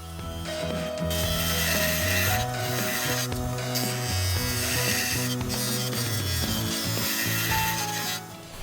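Wood spinning on a lathe while a skew chisel cuts a garden dibber, giving a close, continuous scraping and rubbing with a steady mechanical hum from the machine.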